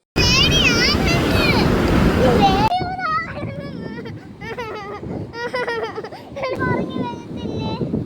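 Sea waves washing onto a beach, a loud windy roar of surf at first, then lighter wave wash beneath children's voices and chatter that continue over it.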